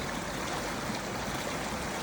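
Clear water flows steadily in a forest stream near a waterfall, a loud, close, continuous rushing wash with no voices.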